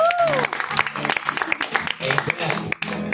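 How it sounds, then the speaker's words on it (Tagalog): A church congregation clapping together in praise during a worship service, a brief burst of group applause mixed with voices and background sounds. "At sabay pumalakpak sa Diyos."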